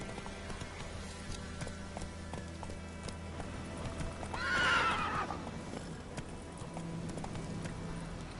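Roach the horse galloping in The Witcher 3, with steady clip-clop hoofbeats throughout and a loud neigh midway, backed by game ambience and music.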